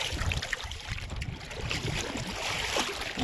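Water sloshing and splashing close by as a boat is paddled, with steady wet strokes and a continuous watery background.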